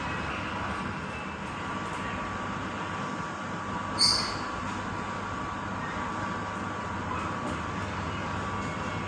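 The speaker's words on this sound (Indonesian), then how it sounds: "kita berhenti di stasiun Kandangan guna menaikkan dan menurunkan penumpang" A commuter train standing at Kandangan station, a steady low rumble and hum heard from aboard, with a brief soft squeal or hiss partway through and no talking.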